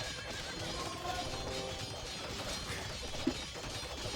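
A horse neighs and whinnies within a medieval real-time strategy game, mid-level over a steady background bed, with a brief thump near the end.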